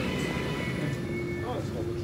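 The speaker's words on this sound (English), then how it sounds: "Oh, that's a lot of train" Train at Manchester Piccadilly station, a loud continuous rumble and rolling roar with a high steady whine, filling the whole moment at close range.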